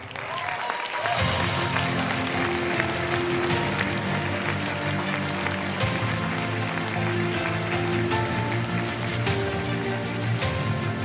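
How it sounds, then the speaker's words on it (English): Sustained audience applause filling a large hall at a global peace leaders' conference, steady and dense throughout with faint voices and music underneath. "Everyone, let's give them a big round of applause."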